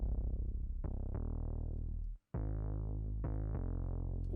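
A busy, distorted 808 bass line for a trap beat, with rapid retriggered notes and gliding pitch, loud and up front, cut off by a brief silence midway before it resumes.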